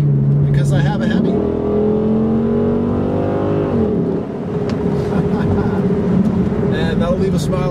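A Dodge Charger SRT8 with a Hemi V8 revs loudly and close, its engine pitch climbing and holding before dropping off, then settling into a deep steady rumble.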